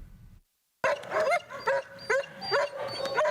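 Dogs at the Bahamas Humane Society animal shelter give a quick run of short barks, yips and whimpers close by after a brief silence, several calls in a row.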